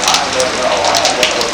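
Heavy rain pours steadily outside a house, a dense hissing wash of drops with a voice speaking briefly over it.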